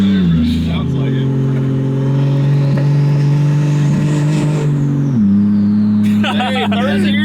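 Turbo 2JZ car accelerating hard with a loud, droning engine note that holds steady, then drops in pitch and climbs again as it shifts into third gear, heard from inside the car with voices over it.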